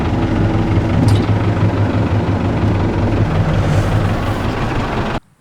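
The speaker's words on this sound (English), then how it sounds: "So I'm gonna go ahead and just pull the tractor forward." A farm tractor hitched to a disc harrow runs loud and steady as it pulls forward, its low rumbling drone filling the clip until it cuts off abruptly at the end.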